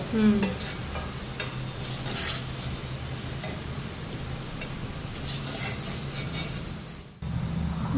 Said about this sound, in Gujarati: ગવાર તો તળે છે.